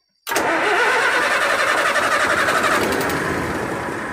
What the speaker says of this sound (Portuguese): Então eu vou ligar ela aqui, vou dar partida.